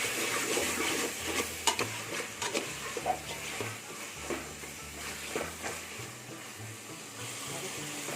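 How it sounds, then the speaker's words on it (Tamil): A spoon stirs mutton biryani masala with mint in a pot, soft scraping and sizzling with a low hum behind it, steady and moderately close. "இப்போ எல்லாத்தையும் ஒன்றா சேர்த்து மிக்ஸ் பண்ணி விட்டுக்கலாம்"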